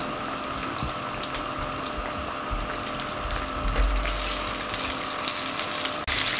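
Eggplant pakoras frying in hot oil over a medium flame, a continuous close sizzling hiss with small bubbling pops, swelling louder midway as more eggplant goes into the oil, with a brief knock near the end.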